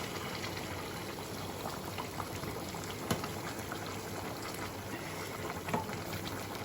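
Hot water goes into a pot of cooking chicken, followed by a steady, soft bubbling boil that runs evenly throughout, with a couple of faint knocks.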